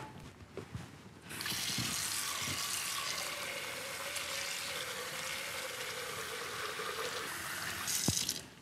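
Tap water pours steadily into a pot to cover eight ounces of farro grains in a kitchen, a continuous rushing stream for about seven seconds, with faint clinks before and after.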